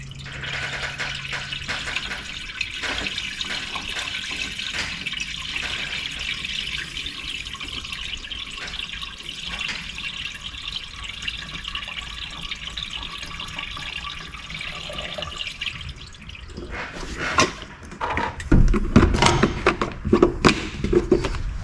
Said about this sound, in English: Let me throw another ½ gallon of coolant and another ½ gallon of water.